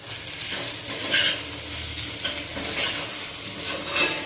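Beaten egg mixture with turmeric and salt being stirred in a hot pan for egg bhurji, soft sizzling under a few bright scraping strokes of a spoon, close and moderately loud.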